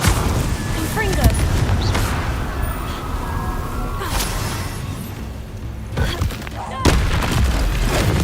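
In the Hogwarts Legacy video game, a Confringo fire spell sets off booming explosions: several sharp blasts with rumbling tails, loud and close, set among continuous game action.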